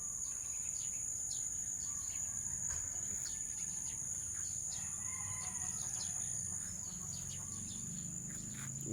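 Chickens cluck faintly in an outdoor yard over a steady, high insect drone, with a rooster-like call now and then in the distance.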